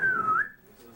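A single clear whistled note from a person, sliding slightly in pitch for under half a second, loud and close over low background rumble, then fading out.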